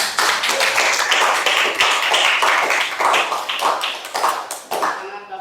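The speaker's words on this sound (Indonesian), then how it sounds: "Beri aplaus buat semuanya" An audience claps for a group presentation in a class meeting: dense, loud, close applause that continues for several seconds, with voices mixed in underneath.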